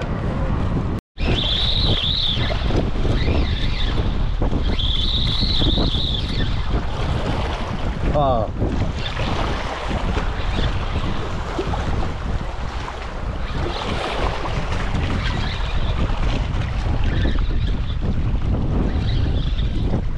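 Strong wind buffets the microphone in a loud, continuous roar on the shore, with waves washing in the background and a brief dropout near the start.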